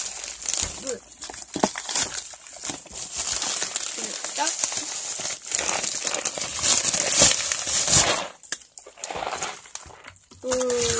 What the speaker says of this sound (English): Christmas paper.